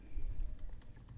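Rapid keystrokes from coding on a computer keyboard for a Selenium WebDriver test in Java, a quick irregular run of close, light clicks over a low background hum.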